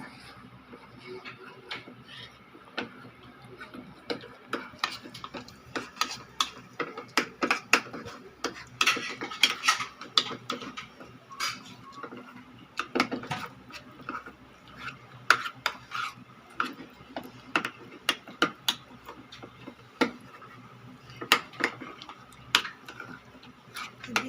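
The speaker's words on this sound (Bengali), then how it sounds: "দু চামচ কর্নফ্লাওয়ার গুলে নেব।" A spoon stirs two spoons of cornflour into liquid in a bowl, making a quick run of light clinks and scraping ticks that stays close and busy throughout.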